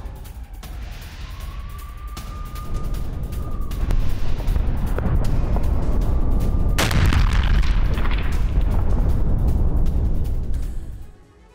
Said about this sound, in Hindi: गाजा में IEF ने भीषण बमबारी की।